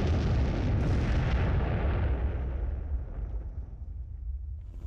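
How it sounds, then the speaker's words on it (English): A huge explosion roars as a sustained, loud rumbling blast that slowly fades over several seconds into a low, lingering rumble. "they used a nuclear explosion"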